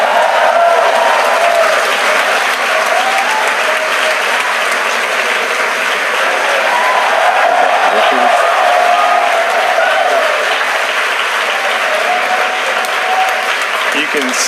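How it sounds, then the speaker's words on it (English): A crowd at SpaceX headquarters cheers and applauds after stage separation during a twice-flown Falcon 9 launch carrying 60 Starlink satellites. The ovation is loud, dense and steady from start to finish, with voices mixed into the clapping. "you can hear it through the cheers of the crowd here at SpaceX headquarters"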